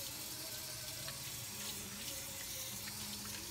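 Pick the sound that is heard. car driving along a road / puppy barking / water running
water running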